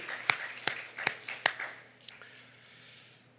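Clapping in a Korean church service: a handful of sharp, separate claps in a slow, even rhythm, about five in total, then fading into a quiet room tone.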